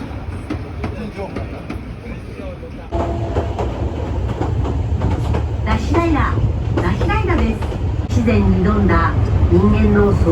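An open-air train rumbles and rattles along the tracks through the Japanese Alps with a steady low roar, while people chatter in the background over the clatter.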